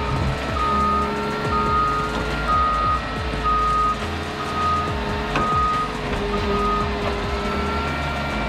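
Timber forestry machine working in a Swedish forest area, its reversing alarm beeping steadily in regular pulses over a loud, continuous diesel engine rumble close by.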